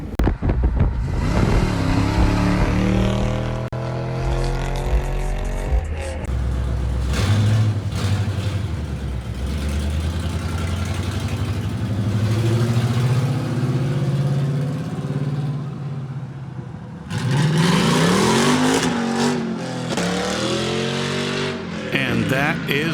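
Custom car known as the Skelestang, its engine revving loudly and accelerating nearby, with a strong roar that swells and fades, then surges again near the end, while people talk over it.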